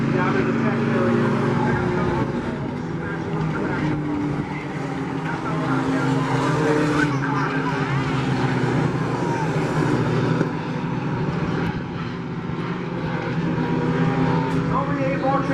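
Sport trucks race around an oval track, their engines roaring loud and continuous as they pass, with tire noise and an announcer talking over the din.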